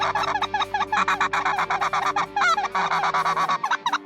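Snow geese honking on a waterfowl hunt: a dense, continuous chorus of loud nasal honks from many birds, overlapping in rapid bursts.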